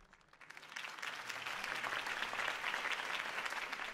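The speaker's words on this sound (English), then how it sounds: "Mr. Wayne, my campaign's largest backer, could have heard that applause" Crowd applause after a campaign speech in Batman: The Telltale Series, a dense wash of clapping that swells in within the first second and holds steady, fairly distant and even, with no voices over it.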